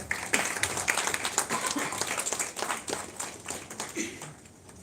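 Steady applause from a crowd at a film festival award ceremony in India, dense clapping that holds throughout before tapering slightly at the end.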